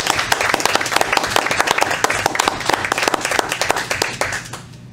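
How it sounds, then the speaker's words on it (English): A small group at a school board of education meeting gives a round of applause, individual claps clearly separable and fairly close, steady for several seconds before tapering off at the end. "let's just give another round of applause"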